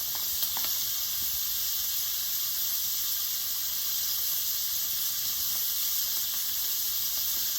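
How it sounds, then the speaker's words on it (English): Tournedos steaks sear in a heavy copper pan over a hot fire with embers, giving a steady, close, bright sizzle and hiss that holds evenly throughout with faint pops. "So we're going to let these sizzle on one side"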